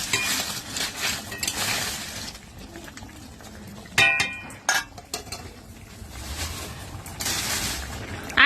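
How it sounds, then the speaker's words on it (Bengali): Biryani meat being stirred and fried in a pan, with a spoon scraping and clinking against metal and a steady sizzle, plus a few sharper clanks partway through; close and fairly loud. "বিরিয়ানির মাংস এই যে কষা করা হচ্ছে"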